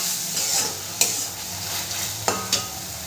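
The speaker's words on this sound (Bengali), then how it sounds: "টমেটোটা দিয়েও আমি মশলাটাকে ভালো করে কষাবো।" A tomato and spice masala is stir-fried for dhaba-style chicken bharta, with a steady close sizzle and a few sharp spatula knocks against the pan.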